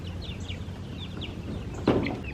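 Chickens clucking and chirping softly over a steady background hum, with one louder squawk near the end.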